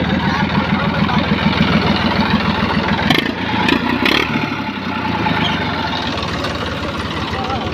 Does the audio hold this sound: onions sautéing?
no